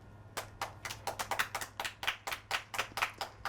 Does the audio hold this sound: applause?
yes